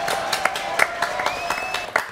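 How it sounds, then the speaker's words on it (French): A small audience claps for a performer on a live show, sparse, distinct hand claps at moderate volume with a faint tone running underneath. "Applaudissements pour Marco Attali"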